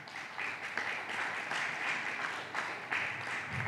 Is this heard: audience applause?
yes